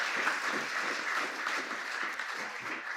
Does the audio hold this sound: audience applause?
yes